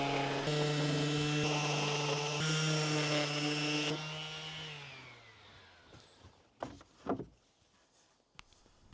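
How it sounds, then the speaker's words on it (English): A jigsaw cuts pieces of wood for an outdoor kitchen build, a loud steady motor whine with a sawing buzz for about four seconds, then winding down, followed by a few faint knocks and handling sounds. "the easiest way to cut off these pieces was by using the jigsaw"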